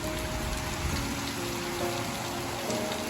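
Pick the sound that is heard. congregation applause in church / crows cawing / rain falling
rain falling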